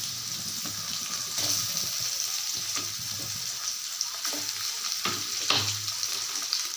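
Grated raw mango tossed into a hot pan of tempered spices sizzles in a steady, close hiss, broken by a few light stirring clicks and scrapes, with no talking.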